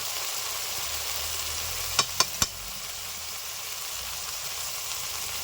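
Cumin, coriander and dry chilli powder frying in oil over tomato puree for an egg curry, a steady soft sizzling hiss broken by three quick clinks of a stirring utensil, no voices.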